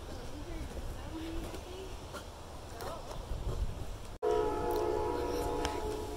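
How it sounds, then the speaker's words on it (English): A train rumbles nearby, growing louder, then a loud, sustained horn blast cuts in and holds over the heavy rolling noise. "That train is so loud."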